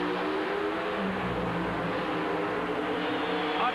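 Pro Stock drag race cars roar at full throttle in a steady, distant-sounding engine drone throughout, with no voices.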